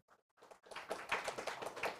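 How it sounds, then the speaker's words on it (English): Audience applause and clapping breaking out after an introductory presentation at a conference event, starting with a few scattered claps then swelling into sustained, fairly close applause from a crowd, with no talk over it. "Maybe a round of applause for Teung"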